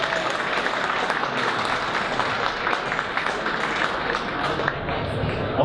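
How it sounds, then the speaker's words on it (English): An audience at a Silicon Valley VR meetup holiday party at the Computer History Museum applauds the Sixense team with steady, dense clapping throughout, fairly loud, with crowd voices mixed in. "Let's give Sixense a round of applause."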